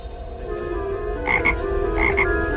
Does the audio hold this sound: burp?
no